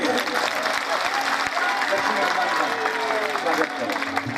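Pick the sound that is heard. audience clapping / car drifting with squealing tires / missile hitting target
audience clapping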